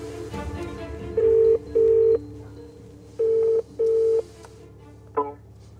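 A mobile phone keypad sounds dialing tones at the entrance gates of a 13th-century Scottish castle: four steady, evenly spaced beeps in two pairs, then a short final blip, clear and close with faint background hum.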